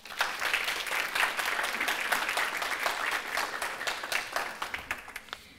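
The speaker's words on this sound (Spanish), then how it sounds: "Un aplauso, por favor." A crowd claps steadily for several seconds at a veterinary talk, a dense wash of applause that tapers off toward the end.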